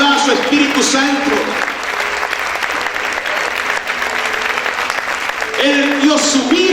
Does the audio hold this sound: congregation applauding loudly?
yes